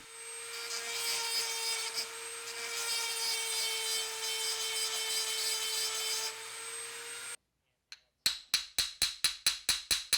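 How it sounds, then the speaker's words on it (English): A Dremel rotary tool with a carbide burr engraves lines in brass on a folk art hand plane. Its steady, high whine runs close for about seven seconds, then cuts off, and a quick series of sharp taps follows. "So that's a Dremel with a burr, just a carbide burr on the end, and basically just kind of drawing in some lines here and there"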